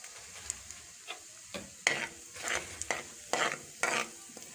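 Whole cumin and bay leaf frying in heated oil in a kadai: a soft crackling sizzle under a series of irregular scraping, clinking stirs of a utensil against the pan, close and fairly quiet.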